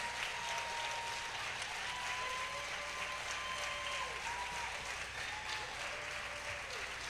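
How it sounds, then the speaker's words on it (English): A large crowd gives teachers of the year a prolonged, dense round of applause at a county honors ceremony, steady and loud throughout, with faint whistles and cheers rising above the clapping. "Let's give all of our teachers, a great big round of applause"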